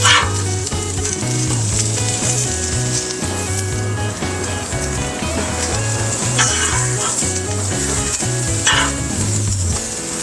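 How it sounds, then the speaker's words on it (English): Bacon cooking on a flat griddle for smash burgers, a loud, close, continuous sizzle and crackle with brief scraping sounds over a low background beat. "Bacon here. Let it cook for a minute."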